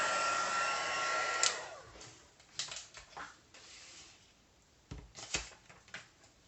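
A heat embossing tool blows hot air over embossing powder on a Christmas card, a steady close whoosh that cuts off after about a second and a half, followed by light clicks and handling knocks.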